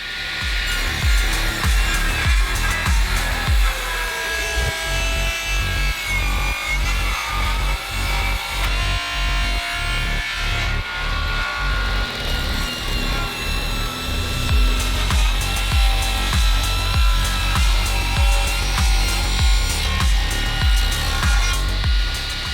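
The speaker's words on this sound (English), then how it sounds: "head over to my table saw where I'll start ripping the boards that I have in half" A table saw rips soft maple boards in half lengthwise, its motor whining loudly and continuously as the blade cuts, with a busy rhythmic rattle of feed and blade noise throughout, close up with no talking.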